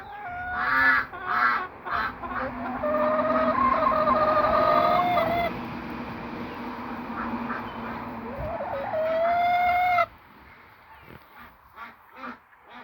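Young hens not yet laying cluck and squawk in a noisy chorus nearby, with drawn-out calls and short bursts over a continuous background hum that cuts off abruptly near the end.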